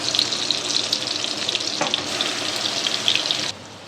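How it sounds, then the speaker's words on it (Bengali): A coconut, green chilli, garlic, onion and tomato paste hits hot oil in a pan, giving a loud continuous hissing sizzle with crackles that suddenly drops to a quieter hiss near the end, without voices. "সেইটা এবার দিয়ে দিচ্ছি গরম তেলে।"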